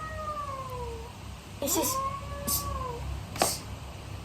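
A cat meows indoors, giving two drawn-out calls and then a third, fairly faint against a quiet room with a few soft clicks.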